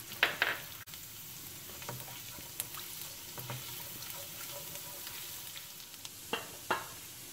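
Finely chopped garlic fries in oil in a pan with a faint, steady sizzle, punctuated by occasional clinks and stirring scrapes.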